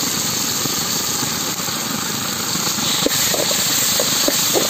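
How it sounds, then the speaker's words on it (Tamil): Ginger garlic paste sizzling in a pot while village-style chicken kasamusa cooks, a steady loud hiss with faint crackles throughout, no talking. "இஞ்சி பூண்டு விழுது அப்படியே சட்டியில விழுது."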